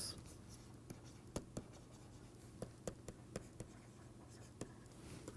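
Chalk or a marker is written on a board during a lecture on prime ideals, giving faint scratching strokes with sharp taps at irregular intervals. The room is quiet and there is no talk.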